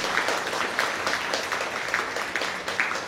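An audience at a Tamil comedy speech applauds the temple priests with steady, moderate clapping from many hands that continues evenly throughout.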